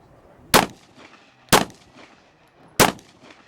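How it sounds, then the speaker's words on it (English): A Glock pistol with a missing trigger spring fires three loud, sharp gunshots at about one-second intervals, each crack decaying quickly into a short ringing echo, with quiet gaps between shots. "this gun will fire right now."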